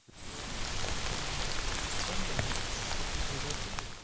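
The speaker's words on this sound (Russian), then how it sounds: "а пошел дождь" Steady rain falls outdoors in the village of Zaozerye in Belarus's Mogilev region, an even dense patter of drops on surfaces that holds at a constant level for the whole stretch, with no talking.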